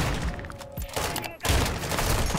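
Gunfire in a shooter video game, a quick fusillade of shots in short bursts with a brief lull before firing resumes, mixed with game noise.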